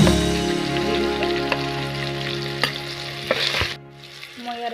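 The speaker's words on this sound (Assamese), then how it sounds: "জিৰা গুড়ি লগতে আদা, নহৰু আৰু পিঁয়াজ দি দিছোঁ।" Cumin powder, ginger, garlic and onion fry in hot oil for a duck curry. A loud, dense sizzle is broken by scraping stirs, then drops off suddenly near the end.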